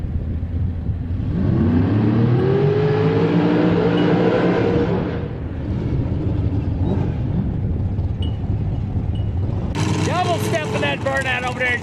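A drag race car at an IHRA testing day on Darana Raceway, Hebron, Ohio, does a burnout and accelerates, a loud broad engine roar building early then fading under steady crowd and track noise, with a second sharp engine burst near the end.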